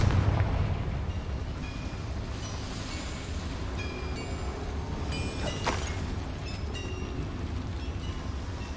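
A Confringo fire spell blasts inside a small mine in the video game Hogwarts Legacy, giving a loud, sustained rumbling explosion with crackling debris that rolls on for several seconds.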